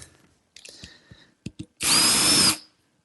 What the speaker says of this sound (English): Just drilling a pilot hole at a slight angle.